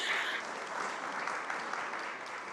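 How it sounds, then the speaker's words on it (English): Steady applause from an evening audience filling a large room, dense and even clapping that holds at a constant level for the whole stretch with no voices over it. "You can applaud."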